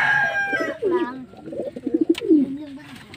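Soft cooing and low gurgling calls of pigeons mix with a voice and brief rustling, including a short flutter of movement nearby.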